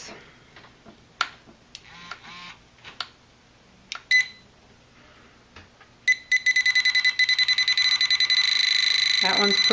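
A Deteknix pinpointer metal detector sounds a loud, rapid series of sharp beeps that merge into a continuous high-pitched alarm tone for the last few seconds, after quieter scattered clicks and handling noises.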